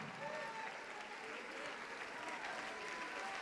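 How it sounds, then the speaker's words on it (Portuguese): A church congregation applauds, a thick continuous roar of clapping from a large crowd with faint voices mixed in, steady and sustained. "Vamos aplaudir, igreja."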